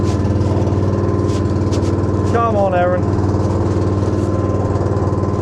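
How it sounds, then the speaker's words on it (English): A beach fishing boat's engine runs steadily at low revs while the crew nets herring, a constant close drone with a brief shouted call from a man partway through. "I'll lift that engine up a bit."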